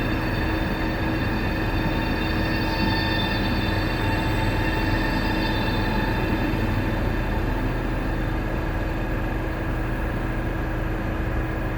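A train runs on rails in Germany near Buchloe, heard from inside as a steady, loud rumble with sustained tonal hum and faint wheel squeal throughout, with no talk.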